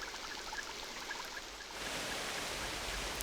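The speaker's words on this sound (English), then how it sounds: "nowhere else in the world does it rain with such fury as in the Amazon" Heavy rainy-season rain pours down in the Amazon rainforest as a dense, steady hiss that grows slightly louder partway through, with no voices.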